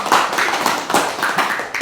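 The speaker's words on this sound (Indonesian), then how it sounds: "tepuk tangan untuk kelompok 1" A classroom of students claps for a student group, a short burst of dense, close applause with many hands that fades after a moment.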